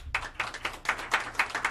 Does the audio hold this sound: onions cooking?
no